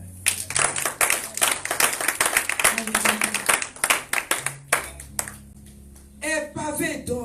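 A church congregation claps in quick rhythmic unison during a French-language worship service, loud and close, with voices mixed in and the clapping thinning out toward the end.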